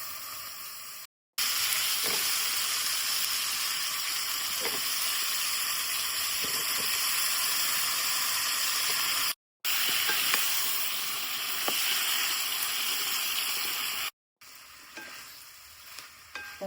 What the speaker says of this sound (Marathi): तर ह्या आता ना बराच तेलात भाजून घेतोय.